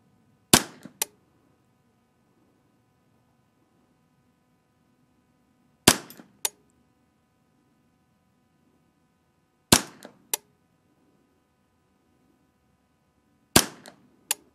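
Sharp, crisp cracks from a Ruger 10/22 rifle fired at an outdoor range, arriving in four separate clusters of one to three shots with several seconds of quiet between them.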